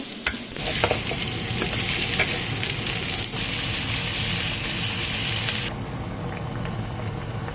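Garlic and ginger sautéing in a pan for chicken tinola with papaya, a steady loud sizzle with stirring scrapes throughout, its bright hiss easing near the end.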